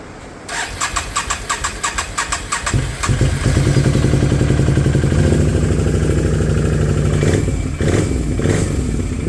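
An EFI four-wheeler engine cranks with rapid rhythmic turning for a few seconds, then catches and settles into a loud, steady running idle, close by and alone.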